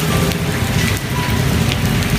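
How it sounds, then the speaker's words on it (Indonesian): Steady heavy rain pours down at night, a dense continuous hiss of drops striking surfaces close by, with no voices. "Ini hujan terus banget nih"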